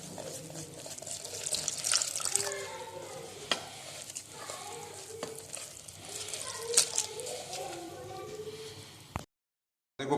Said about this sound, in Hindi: अब इसके अंदर पानी शामिल करेंगे